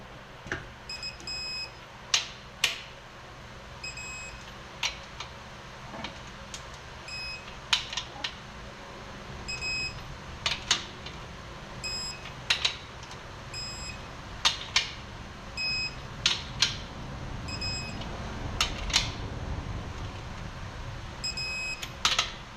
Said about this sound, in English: So this is my torque wrench right here.